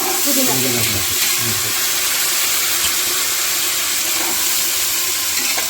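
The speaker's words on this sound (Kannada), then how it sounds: "ಸೊಪ್ಪುಗಳನ್ನ ಆಯಿಲ್ ಫ್ರೈ ಮಾಡ್ತಾ ಇದ್ದೀವಿ" Fenugreek and coriander leaves fry in oil for mutton biryani with a constant, loud, close hiss and sizzle. Faint clinks and low murmurs sit underneath.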